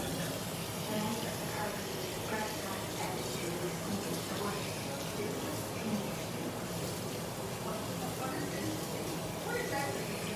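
Cold tap water runs in a kitchen while Filipino-style spaghetti is prepared, making a continuous, even rushing splash that stays steady for about ten seconds.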